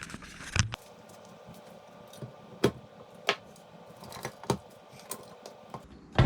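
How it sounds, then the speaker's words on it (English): Metal parts of a KitchenAid stand mixer clunk and clatter as its motor housing is lifted off after unscrewing, with a sharp knock early on and scattered clicks and taps following, close and fairly quiet. "Now we should be able to lift the motor off of the"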